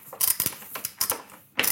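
Two fasteners on a motorcycle trunk are tightened in a quick series of close clicking, ratcheting bursts with short pauses between them, and no voice is heard.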